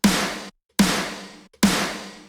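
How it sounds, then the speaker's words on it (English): Three loud, evenly spaced hits from a wide metal snare drum sample triggered through Waves Trigger, each with a bright crack and a long roomy decay, separated by short silences. "Then finally, I'm going to a snare sample, which sounds like this."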